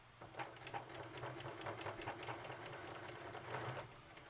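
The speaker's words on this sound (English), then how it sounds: "go forward and then back stitch" A sewing machine stitches forward and then back on a tote bag, a quiet, rapid, regular needle clatter over a low motor hum, close by and with no talking.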